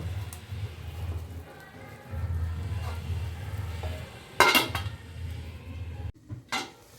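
Carrot halwa in a pot is stirred with a spoon, giving soft intermittent scraping over a low bubbling hum and a few louder metallic clanks against the rim.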